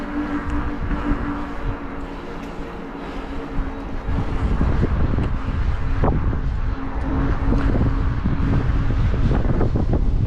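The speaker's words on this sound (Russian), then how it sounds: "Ого, ветер" Wind gusts buffet the microphone on a road in Crimea in December, a rumbling, blustery roar that builds louder halfway through and stays strong, with no speech.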